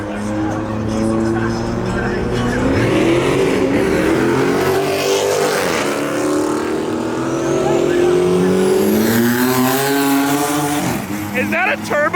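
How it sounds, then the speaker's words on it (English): A turbo V6 Dodge Challenger at a car meet revs and accelerates loudly past, its engine note rising and falling with a brief tire squeal, while people shout and talk over it. "Is that a turbo V6 Challenger?"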